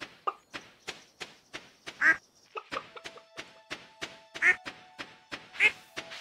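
Chicken in the Stardew Valley video game, a run of short, evenly spaced clucking sounds with a few louder squawk-like calls mixed in, close and clear, with no voices over it.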